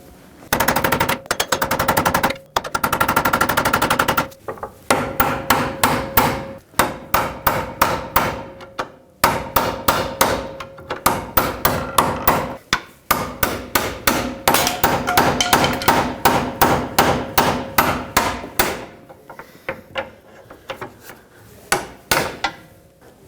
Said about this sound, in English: I'm gonna try and hammer this pry bar in there and spread those two halves apart